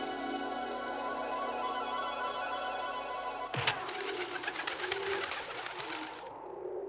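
Pigeons coo softly in a steady background murmur, then a brief sharp burst of flapping or scuffling breaks in midway, followed by a faint fluttering texture.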